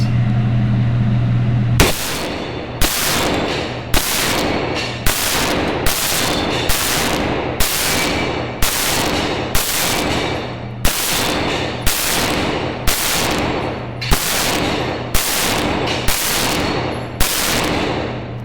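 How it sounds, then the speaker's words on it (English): Rifle shots fired at a shooting range with a red dot optic fitted, about fourteen sharp reports spaced roughly evenly over the span, loud and close, each followed by a brief ring against a steady background hum. "All right, let's do some more shooting."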